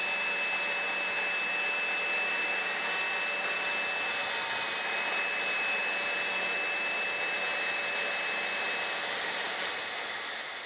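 A GMC laminate saw runs close and loud with a continuous high-pitched whine as its blade cuts through a workpiece, holding steady throughout before tapering slightly at the end.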